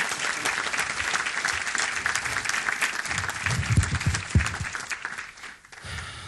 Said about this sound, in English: Now give him a great big round of applause.